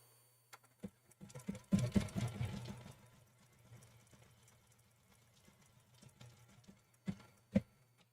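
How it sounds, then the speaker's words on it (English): A domestic sewing machine stitches a zigzag across two fabrics butted edge to edge for appliqué, a short burst of rapid mechanical whirring and clicking followed by quieter handling noises and a few sharp taps. "That zigzag stitch, when it goes left to right, because the fabrics are butted up right next to each other, it's going in both of those fabrics."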